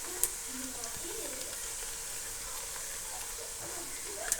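Onion and garlic sizzle steadily in hot oil in a pan for chicken curry, a constant close hiss with faint occasional ticks.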